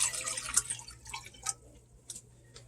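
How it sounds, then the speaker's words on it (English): Water splashes into a 3 quart saucepan in short, uneven spurts and drips, close and fairly quiet over a low hum. "put 4 cups of water in this 3 quart saucepan"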